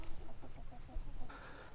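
Pastured chickens cluck softly at a waterer, short low calls repeating under steady outdoor background noise, fairly close.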